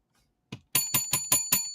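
A bicycle-style bell is rung in a rapid series of about six bright dings, the first isolated and the rest evenly spaced, close and clear against silence.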